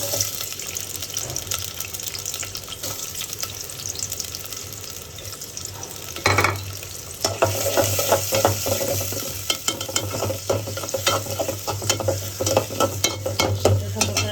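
Sliced onions fry in hot oil in a pot with chicken for a Bengali chicken bhuna, stirred with steady scraping and crackling. Clatter and sizzle grow busier and louder about halfway through, with no talk.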